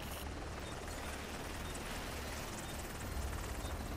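Helicopter called in the Dark Zone of the video game The Division, a steady, dense rotor and engine roar that holds for the whole stretch at moderate level with no talk over it.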